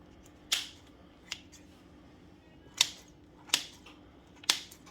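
Scissors snip through stale bread pieces in five sharp, separate cuts spaced irregularly, close and crisp against a quiet room.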